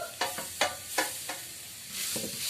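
Fish masala and tomatoes for a fish-head curry are stirred in a pan, with several distinct scraping strokes over a soft sizzle, then a louder hiss of frying near the end.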